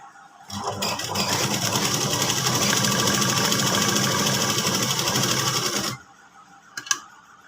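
A sewing machine runs a straight seam along chudidar pants. The motor hums loud and close in one continuous steady stretch of about five seconds, then stops abruptly, followed by a couple of faint clicks.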